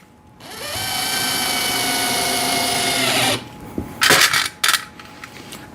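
A power drill drives screws while a VEVOR 7-tier rotating shoe rack tower is assembled. The motor whines loud and steady for about three seconds, then cuts out, followed by a few sharp metallic clicks and clatters close by.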